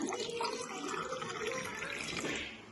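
Water pours steadily into a glass in a continuous splashing stream for a few seconds, then tapers off.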